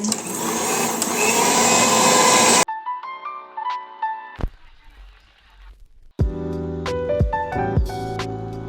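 Electric mixer whirring loudly as pizza dough ingredients are mixed, then abruptly giving way to a patchwork of tonal music and other edited sounds.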